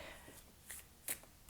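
Tarot cards being shuffled during a reading, giving soft, quiet riffling and a few brief crisp flicks and slaps, faint and close with no talk.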